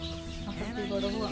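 Incubator-hatched chickens clucking nearby in short, soft calls with a few louder squawks, set against light background noise, no talk.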